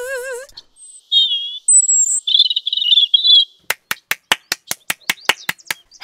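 A small bird sings close and clear, first with wavering whistled warbles and trills, then a quick, evenly spaced run of about a dozen sharp chirps, in a children's audio play.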